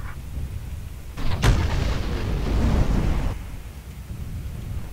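Gunfire and artillery in the MWLL mech game on a desert map: a sharp blast followed by a heavy rumbling roar lasting about two seconds over a constant low background drone.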